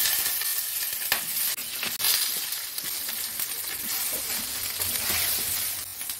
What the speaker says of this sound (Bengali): আমি এই তেলে বেগুনগুলোকে ছেড়ে দিচ্ছি, একটু লাল লাল করে ভেজে নেব।